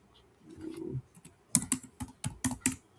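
Keys on a computer keyboard are tapped in a quick run of sharp, close clicks, preceded by a soft rustle and a brief pause.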